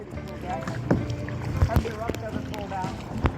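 Paddles dip and pull through the water as a small boat is driven hard toward a gap near El Nido, Palawan, with splashy strokes and knocks under wind noise while people shout and talk.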